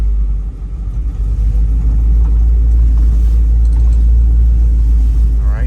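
A 1957 Chevrolet Bel Air Wagon with California patina and upgrades drives along a residential block, its engine a steady, loud low rumble that fills the whole stretch with no talk over it.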